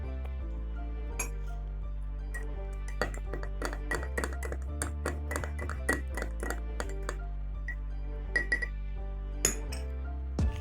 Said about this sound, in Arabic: بعد ال10 دقايق نبتدي نقلب المشروب بتاعنا.